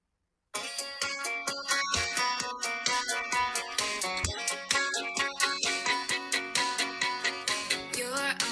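A pop song plays steadily from start to finish at a party, its bright, rhythmic music with regular beats carrying on and no talk over it.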